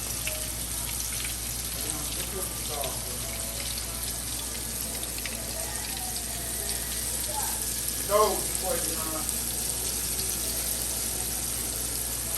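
Flour-coated ribs frying in a pan, a constant close sizzle and bubbling with a few sharper pops, while a voice talks now and then over it.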